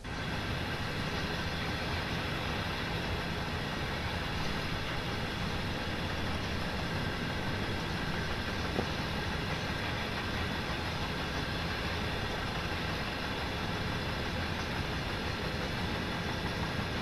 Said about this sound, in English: See a ground train passing up there.